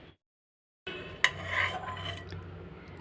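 Metal clatter and scraping as the lid comes off a cooking pot of boiled peas for a vegetable biryani, a sharp clink followed by soft rattling and stirring noises, close and quiet, no voices.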